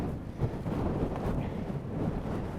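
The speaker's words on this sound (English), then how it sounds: "This is quite windy." Wind gusting across frozen Peak District hills in winter, a steady broadband rush with dull buffeting on the microphone, close and continuous throughout with no voices.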